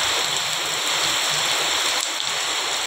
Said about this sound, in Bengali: সত্যি সত্যি শেষ পর্যন্ত বৃষ্টি এলো এবং দেখতে পাচ্ছ খুবই জোর বৃষ্টি হচ্ছে